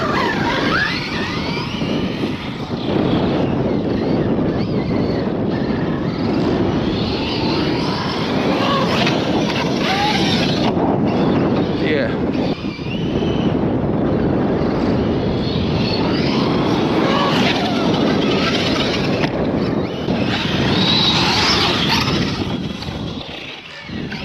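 Kraton RC car with a shifted pinion and loose motor mount, driven hard in the desert: a loud, continuous high-pitched electric motor whine with broadband rumble that stays steady for most of the run, dipping briefly in places.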